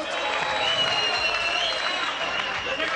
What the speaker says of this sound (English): a good round of applause from the crowd